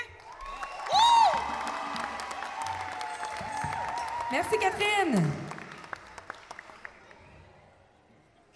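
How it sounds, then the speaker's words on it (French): A crowd claps and cheers for a band at a live show, applause swelling loudly with whoops rising above it, while a voice speaks over the clapping before it fades out. "Applaudissez-les fort, s'il vous plaît."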